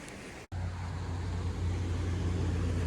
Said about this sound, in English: I apologize if the traffic sounds loud, but like I said, there is a main road that runs along the front of the campground